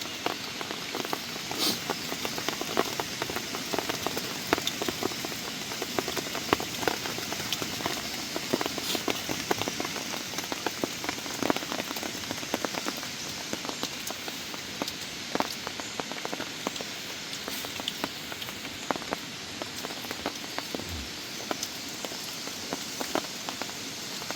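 Steady, dense heavy rain pattering on a surface in mountain forest, loud and continuous throughout, with occasional heavier drips standing out.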